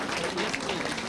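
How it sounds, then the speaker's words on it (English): Audience applause for the caterers at an evening dinner event, a dense continuous wash of clapping from many hands filling the whole moment at steady loudness. "big round of applause to the caterers tonight"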